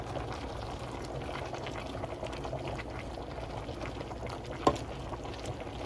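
Cabbage simmering in a steaming pot gives a steady, low bubbling boil that runs quietly throughout, with one brief louder pop or clink near the end.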